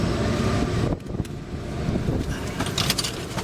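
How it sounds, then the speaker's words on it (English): Strong wind blowing outdoors during car repair work on a 2007 Honda CR-V, loud constant rushing and microphone buffeting with gusts that dip briefly and then build again. "wow, it's really windy today"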